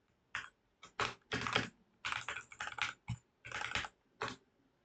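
Fast typing on a computer keyboard during a coding session, with irregular bursts of close, crisp key clicks separated by short pauses and no voices.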